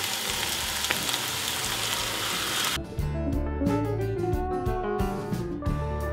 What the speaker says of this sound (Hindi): तो चलिए दो से तीन मिनट तक मैंने इसे भून लिया है